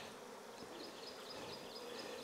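Honeybees buzz around an opened brood frame from a re-queened swarm hive, making a faint, steady, continuous drone with no voices.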